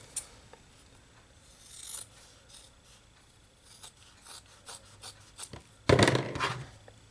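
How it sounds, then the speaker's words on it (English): Scissors cutting away bulk fabric from the flange of a cross stitch pillow: scattered soft close snips and fabric rustles, then a louder burst of cutting and handling near the end, no talking. "I'm gonna again cut this bulk out"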